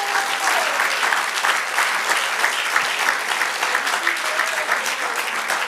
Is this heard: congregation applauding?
yes